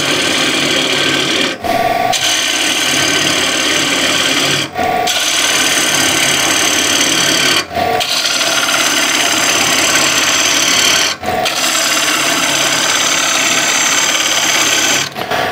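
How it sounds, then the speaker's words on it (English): A bowl gouge hollows the inside of a wooden bowl spinning on a lathe, a loud continuous rasping scrape with brief pauses every few seconds as the tool is repositioned. "Now I'll do the bulk of it with the bowl gouge."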